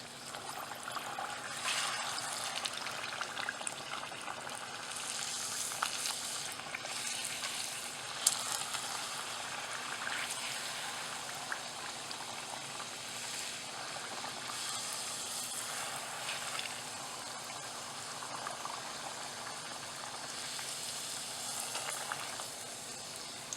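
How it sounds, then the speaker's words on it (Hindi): Puris for pani puri frying in hot oil over a high flame make a continuous bubbling sizzle, moderately loud and close, with a few small pops and no speech over it. "तो अब मैं मेरी और बची हुई सारी पूरीज को इस तरह से फ्राई कर दूंगी।"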